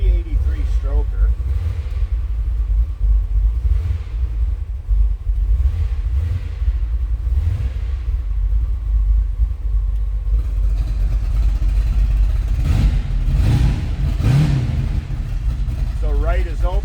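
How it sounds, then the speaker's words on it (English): A 1940 Ford rat rod pickup's 383 stroker V8 rumbles loudly and steadily throughout, with several revs swelling up late on; a person talks over the engine noise. "Let's fire it up. And again, 383 stroker."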